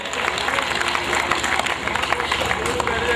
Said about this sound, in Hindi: एक बार जोरदार तालियां बजा दीजिए आप लोग